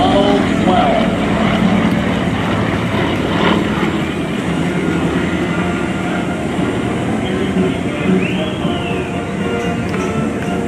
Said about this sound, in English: Trevor Rafferty, give him a wave as he goes by and let him know how much we appreciated his incredible performance here today in the Pitts Model 12